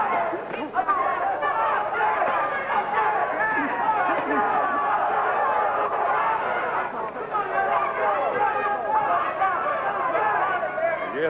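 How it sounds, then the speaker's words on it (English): Boxing crowd at a heavyweight fight, a continuous roar of cheering and babble from many people filling the arena, with a commentator talking over it. "You hear the crowd trying to get everybody into this fight."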